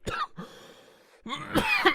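Person coughing close to the microphone, a sharp cough at the start, a brief quieter stretch, then a burst of several harsh coughs and throat clearing toward the end.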